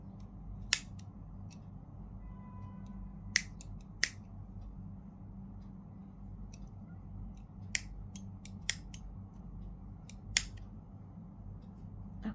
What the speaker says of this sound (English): And now I'll just cut the yarn tails.